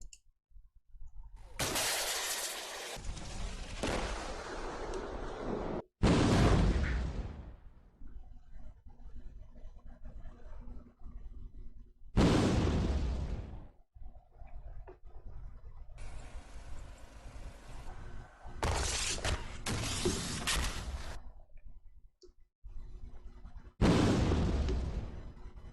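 Explosions from an anti-tank active protection system intercepting incoming rounds, a series of sharp, loud blasts with shattering bursts spaced across the stretch, separated by rumbling lulls.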